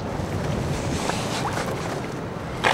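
Pacific ocean waves washing onto a beach, a steady windy roar of surf heard close with no talking.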